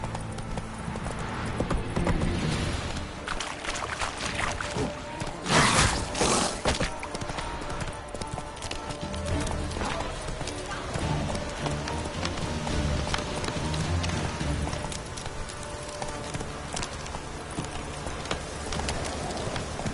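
The horse Roach gallops in Witcher 3 with continuous rapid hoofbeats, close and loud. A burst of rushing noise rises midway, and faint rain patters in the background.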